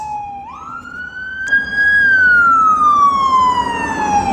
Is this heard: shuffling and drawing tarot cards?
no